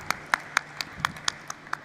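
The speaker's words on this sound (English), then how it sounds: "Let's have a huge, huge round of applause for all our dignitaries." Sparse, evenly spaced hand claps from the audience at an NSE launch event for monthly electricity futures, about nine crisp claps in under two seconds, faint and somewhat distant, with no talking.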